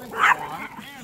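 A dog out on a walk gives one short, sharp bark near the microphone, with people talking around it.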